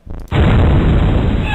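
A grenade goes off in the video game X-Com UFO Defense, a loud sudden boom after a short lead-in that then holds as a dense rumbling roar for over a second.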